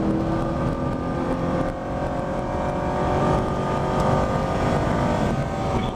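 A Camaro or Corvette driving on a Spring Mountain Motorsport Ranch track, its engine a loud, continuous roar heard from inside the car as it holds speed and slows toward a corner.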